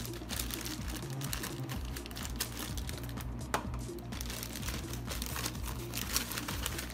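Packaging for a pair of Redmi AirDots 2 earbuds is opened by hand, with faint plastic crinkling, tearing and small scattered taps, quiet and close throughout.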